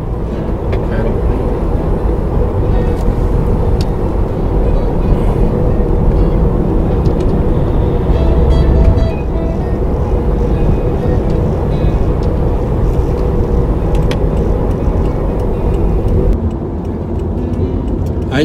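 Subaru car with EyeSight ver.3 cruising steadily on an expressway, a continuous loud road and engine rumble with wind noise from inside the cabin, holding an even drone throughout.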